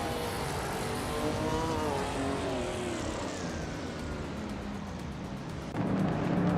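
Race car engines in a video game race drone continuously at moderate volume, with slowly shifting pitch sweeps and a heavier, louder surge near the end.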